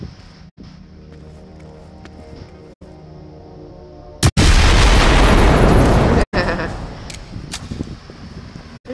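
A loud, sustained explosion booms in the video game Generation Zero after a quieter stretch, with roaring blast noise lasting a couple of seconds, then a few sharp pops and crackles as it fades.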